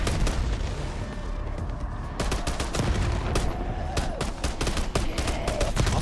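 Rapid gunfire in Call of Duty: Black Ops 6, with dense bursts of sharp shots over a loud, steady background din of battle that continues throughout.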